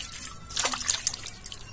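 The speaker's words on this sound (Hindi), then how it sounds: "उसके बाद हम गाजर भी धो लेते हैं।" Carrots are washed under running water, a soft trickle with a few splashy drips and sloshes near the middle, fairly quiet and without speech.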